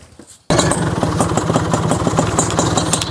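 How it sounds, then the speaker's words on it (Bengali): An antique motorcycle engine runs loud and close after a sudden start, holding a steady, throbbing idle with a regular firing pulse throughout. "সো দেখতে পাচ্ছেন আমরা এই বাইকটা স্টার্ট করে রেখেছি"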